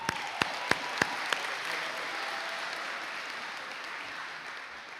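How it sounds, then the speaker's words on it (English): An audience at a high school sports awards ceremony applauds steadily for honored senior athletes, a dense wash of clapping held for several seconds, with a few sharp louder claps near the start. "Please give them a round of applause, please"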